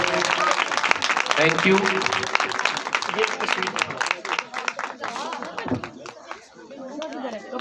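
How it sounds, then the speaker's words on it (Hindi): Audience clapping for children after a Christmas drama program, loud and sustained at first, then thinning into scattered claps as chatter and a brief thank-you come through. "ज़ोरदार तालियां इन बच्चों के लिए एक बार फिर।"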